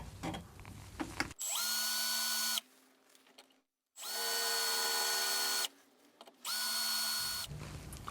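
A power drill with a 1.5 mm bit bores into spot welds on a Mercedes W124 body at the rear axle mounts, three sustained whining bursts separated by short pauses, loud and close with no voices.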